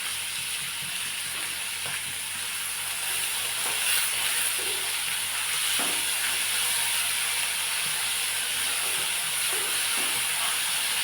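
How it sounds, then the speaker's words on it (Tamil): Sliced large onion and green chilies with a little salt frying in a pan, a constant close sizzling hiss with occasional soft stirring scrapes underneath. "அடுத்து வந்து கட் பண்ணி வச்ச பெரிய வெங்காயத்தையும் அந்த பச்சை மிளகாயும் போட்டு கொஞ்சமாக உப்பு போட்டு மிக்ஸ் பண்ணுறேன்"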